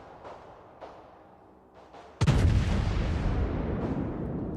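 A warship's main battery fires a volley in World of Warships, a single loud, heavy boom at close range followed by a long rumbling roar that fades slowly, with a few faint thuds before it.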